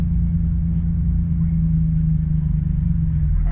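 A steady low engine drone from a manual Infiniti G35 as the clutch engages, holding an even, close hum near the point of stalling, with a faint voice at the very end.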